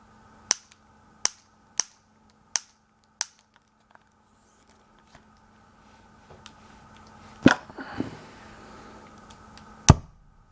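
A gas-powered launcher overloaded with too much gas fires as a sequence of sharp, close cracks: five evenly spaced snaps, a few faint ticks, then a louder burst with a messy rumbling tail and one final hard crack.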